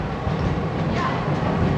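A theme park train rolls along in a steady rumble with faint clatter, close and continuous.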